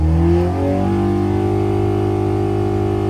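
A Hillman Imp 1200 engine on a dyno revs hard, then holds a steady high-pitched drone with strong harmonics. It is close and loud throughout, and no voices are heard.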